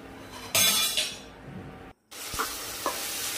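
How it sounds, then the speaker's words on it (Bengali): Vegetables stirred in a hot pan, a steady sizzle with scraping and clinking spoon strokes, a brief drop to near silence midway, then more stirring with sharp knocks against the pan. "এই দেখো ভালো করে একটু নাড়াচাড়া করে নিলাম সবজির সাথে মিক্সড করে"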